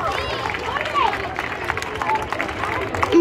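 A crowd at a school STEM gymkhana event applauds the organizers, scattered clapping and cheering mixed with lively chatter and a voice speaking over the babble.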